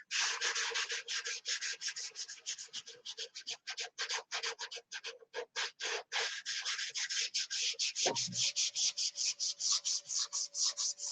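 Continuous rhythmic sanding by hand, steady back-and-forth rasping strokes close up and fairly loud throughout, with a brief low thump midway and a faint steady hum afterward; no talking.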